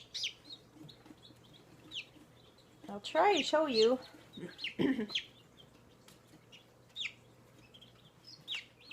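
Small chicks peep in short, high chirps scattered across the clip, while a person speaks briefly nearby.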